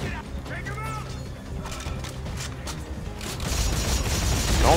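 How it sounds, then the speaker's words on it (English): Rapid Gatling gun fire in the Dead Space 3 video game, a dense sustained burst of mechanical shots with crashes and impacts, growing louder toward the end. "I've got a Gatling gun."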